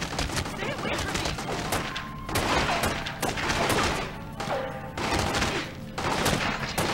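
Gunfire rattles through The Godfather Part II video game as a dense, continuous barrage of overlapping shots that stays loud and busy throughout, with brief dips between volleys.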